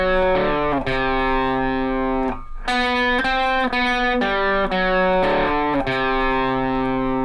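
Distorted electric guitar playing the fast picked riff, a loud, dense, continuous run of driving chugged notes with only a brief drop in the middle.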